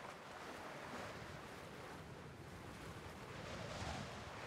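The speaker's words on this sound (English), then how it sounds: "It's getting awfully windy out here now." Stage-play sound effects of gusting wind and surging ocean waves form a continuous, fairly faint roar of surf and wind with no voices.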